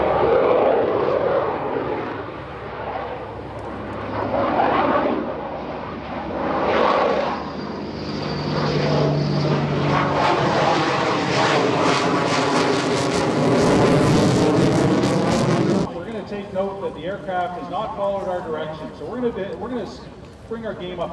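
Aircraft engines roar at the EAA Oshkosh airshow during an F-16 interception demonstration, a loud, swelling drone with sweeping pitch that builds over about fifteen seconds and then drops off abruptly to a thinner rumble.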